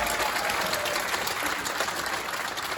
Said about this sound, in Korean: 여기 두 분 국회의원님들한테 박수 한번 보내주세요